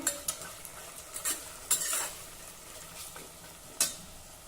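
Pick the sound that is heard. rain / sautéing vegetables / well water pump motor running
sautéing vegetables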